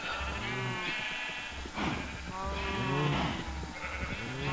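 Sheep bleating in a video game, several wavering bleats overlapping one another with a steady looping in-game background beneath them, with no voices.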